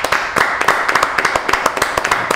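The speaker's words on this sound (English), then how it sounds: "So give yourself a round of applause" Cooking show contestants clap together, a close burst of brisk, uneven applause from a small group.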